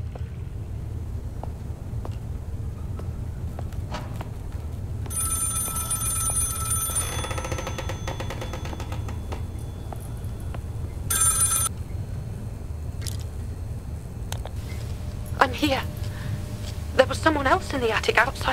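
Ringing telephone in the horror game Maid of Sker, with short bursts of bright ringing around the middle of the clip over a low steady hum and scattered game sounds, then a voice near the end.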